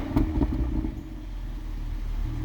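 Stock OEM exhaust of a Toyota GR Supra running steadily, a low, even engine rumble with a few light burbles early on, close and fairly loud throughout.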